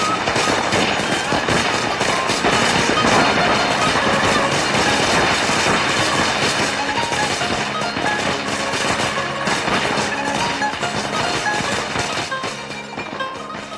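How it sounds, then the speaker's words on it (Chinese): A long string of a hundred firecrackers is set off to celebrate, a dense, loud and unbroken crackling barrage that fills the whole stretch and fades only slightly at the end. "放鞭炮！"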